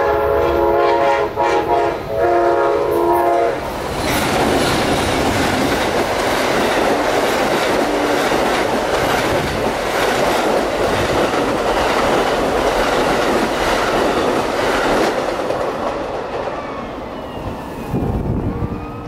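An Amtrak passenger train in Florida roars past close by, horn blaring at the start, then a long steady rumble and clatter of cars that slowly fades.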